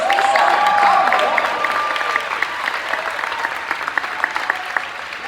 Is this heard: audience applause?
yes